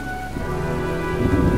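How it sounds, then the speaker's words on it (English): Heavy rain and a thunderstorm in the game Heavy Rain, a loud, dense, steady downpour with low rumbling thunder swelling beneath, heard alone without talk. "Well, looks like a storm's coming."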